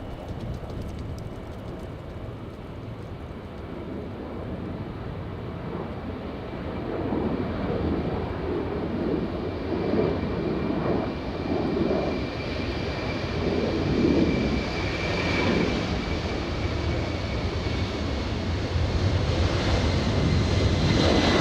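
Delta airliner on flight 991 to JFK taking off from LAX, a distant broad engine roar swelling gradually and holding steady, heard alone without talk.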